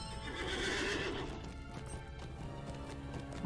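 Hooves clip-clop steadily as a horse is ridden toward Rivendell in the online game Lord of the Rings Online, with a whinny near the start and no talking.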